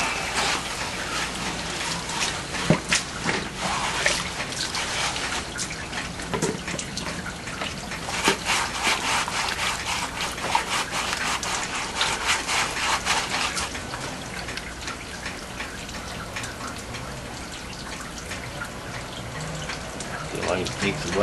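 Water rushes steadily through a highbanker screen in a backyard gold-prospecting setup, a continuous close splashing and gurgling with occasional scraping and knocks, while someone talks over it.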